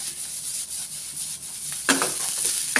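Cumin rice stirred in a pan, a soft steady scraping and light sizzle, with a louder burst of stirring near the end.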